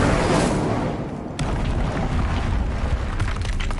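A fiery Incendio spell cast in Hogwarts Legacy, a dense roaring whoosh of flame that runs steadily with a brief dip and a sharp surge partway through, loud and close.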